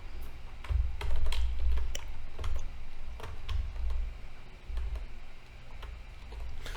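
Rapid typing of code on a computer keyboard, a steady run of sharp close key clicks in quick bursts with a low thumping undertone, no voices.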